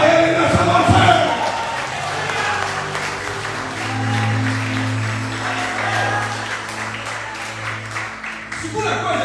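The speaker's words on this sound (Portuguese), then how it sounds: "Quem pode adorar, aplauda ele nessa noite." A church congregation claps together for a sustained stretch at an evening worship service, with a steady keyboard chord droning beneath, and a preacher's voice briefly heard at the start.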